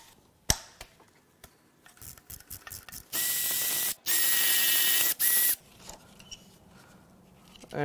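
Ratchet clicking while loosening fuel lines and the high pressure fuel pump on a Ford F-150 2.7L EcoBoost V6 engine: scattered close clicks and clunks, then several long, fast, buzzing ratchet runs, with faint handling noises between.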